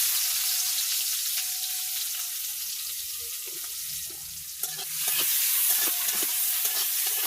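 Onion dropped into hot oil in a pan crackles and sizzles steadily, the frying rising louder after a brief clatter of stirring midway, with no voices.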